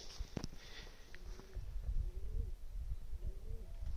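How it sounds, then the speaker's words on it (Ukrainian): Soft, low pigeon coos repeat a few times in the distance over a dull background rumble, with a couple of faint clicks. "Там голубі курликають."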